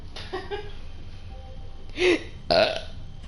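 A person hiccups and burps at once, giving two short throaty croaks with a squeaky voiced edge, close and fairly loud over a low background hum.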